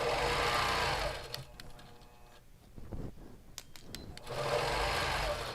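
A sewing machine stitches quilt backing on a quilting frame, running in a steady close whir, pausing briefly in the middle, then starting up again at full speed.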